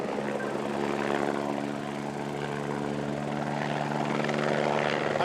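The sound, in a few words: helicopter flying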